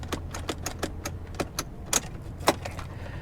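Key clicks and jingling in the ignition of a dead salvage car, a string of brief metallic ticks and rattles close by, with no engine catching.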